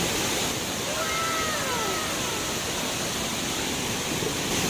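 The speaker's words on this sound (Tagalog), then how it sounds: "Ito yung waterfalls mga kamanoy" A clean waterfall pours with a steady, broadband rush of falling water, constant and fairly close, with faint background voices.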